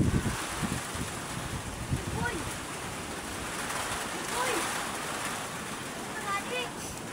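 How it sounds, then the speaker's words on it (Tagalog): Strong gusting typhoon wind roars against the microphone, with surges and rumbling buffeting; faint voices can be heard under the noise. "Ang hangin daw balik-balik."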